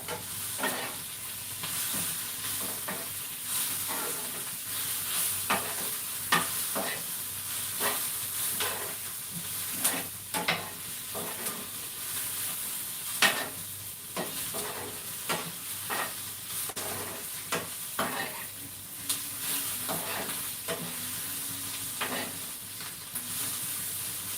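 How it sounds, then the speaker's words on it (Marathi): Onions frying in a pan for paneer masala, turning slightly reddish, give a steady sizzle and hiss with regular scraping stirs of a spatula throughout, close and moderately loud, with no talking. "बघा आता आपला कांदा थोडासा लालसर होत आलेला आहे"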